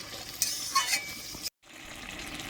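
A spatula stirs chopped vegetables in a cooking pan over a low frying hiss, with a few light clinks and scrapes early on. A brief silent gap comes before the quiet sizzle resumes.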